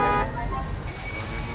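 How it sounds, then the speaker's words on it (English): A car horn sounds in the 1940s-era Mafia II video game, a loud, sustained blare lasting about a second and a half with no break. "Okay, now honk your horn."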